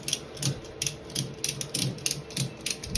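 Ratchet strap clicks rhythmically as it is cranked tight to lift a new engine into a CF Moto 950 Sport Z Force, several quick ratcheting bursts close by with no talking.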